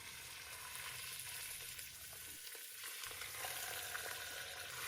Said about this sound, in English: I'm browning that beef before throwing in the vegetables and the spices